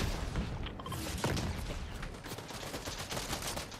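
Rapid bursts of gunfire in a Fortnite match, with dense, overlapping shots and booms rattling continuously through the whole stretch at close range.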